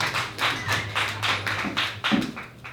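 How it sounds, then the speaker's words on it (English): An audience applauds comedian Robin Tran at a comedy show, a loose rhythm of handclaps with a few sharper slaps standing out, fairly close and steady for about three seconds before easing off. "Could everybody please give a big round of applause for my friend Robin Tran?"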